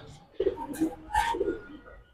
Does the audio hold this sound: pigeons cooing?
yes